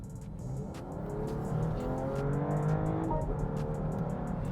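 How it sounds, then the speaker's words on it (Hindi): A 2025 BMW X5 SUV accelerates hard, its engine note rising steadily through climbing harmonics with a brief shift near the end, loud and close from inside the cabin with no talking. "I will press the race pedal"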